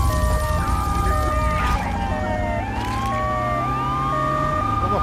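A wailing ambulance siren from the video game GTA 3 sweeps up and down in pitch, mixed with a yelping pattern. Traffic and engine rumble sit underneath, at moderate loudness, with no talk.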